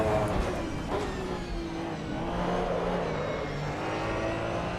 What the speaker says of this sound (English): The tyre skid sounds good in this, though.